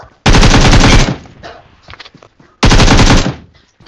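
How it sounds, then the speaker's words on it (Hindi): Automatic gunfire in the mobile battle royale game BGMI, two loud sustained bursts about a second each separated by quieter game sounds, close and harsh. "वो सामने जाकर रुक जाते हैं और वहाँ से फायर कर रहे होते हैं"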